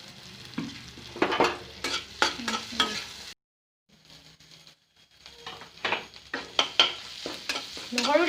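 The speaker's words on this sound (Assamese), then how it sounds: "জালুক জিৰা দিছোঁ।" Black pepper and cumin frying in a pan while being stirred, with scraping strokes and a crackling sizzle in short bursts, a brief pause midway, then more stirring.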